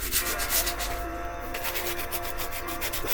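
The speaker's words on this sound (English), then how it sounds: "The 36 grit now on the lead where the epoxy is going to touch it." Coarse 36-grit sandpaper scrubbing back and forth over a lead surface, a steady close rasping in repeated strokes that continues without pause and with no voices.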